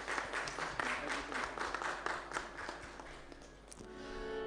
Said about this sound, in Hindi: जोरदार हम तालियां बजाते हैं।